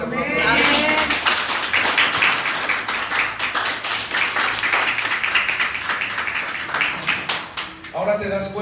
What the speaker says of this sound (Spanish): ¿Cuánto le pueden dar una fuerte aplauso?